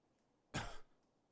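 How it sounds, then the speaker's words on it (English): A single quiet cough, brief and breathy, close by in an otherwise still room during a medical examination. "Can you cough for me?"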